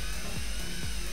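An electric motor on an ignition test stand, fed through a variac, whines briefly and shifts pitch as its speed is eased up and back down twice in quick succession.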